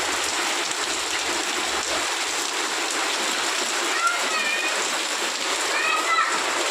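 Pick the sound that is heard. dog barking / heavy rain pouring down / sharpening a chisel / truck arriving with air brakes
heavy rain pouring down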